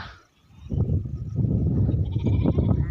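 Goats bleat repeatedly at close range, loud and overlapping, after a brief quiet moment at the start.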